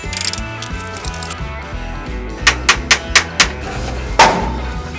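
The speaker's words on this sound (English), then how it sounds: "I'll tap with a hammer, break it free." A hammer taps at a castle nut on the front spindle of a C10 pickup with a 12V Cummins diesel swap, five sharp evenly spaced metallic strikes followed by one heavier blow, all over steady low background noise.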